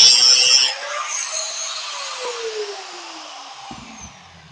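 An angle grinder grinding aluminium without sparks, a loud high whine that settles into a steady, slowly falling drone over several seconds and then winds down, with no talk.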